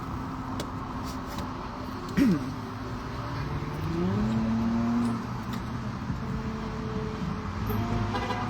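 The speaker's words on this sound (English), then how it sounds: "Chilling in Miss Judy's car." Steady, close road rumble fills the cabin of a moving car, with a brief higher tonal blip partway through and a slight swell in loudness later on.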